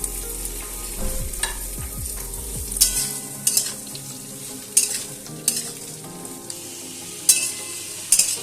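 Mixed vegetables tumble into a pan of fried onions with a low rumbling pour, then a spatula sautés them with sharp intermittent scrapes over a steady sizzle, close and loud, no voices.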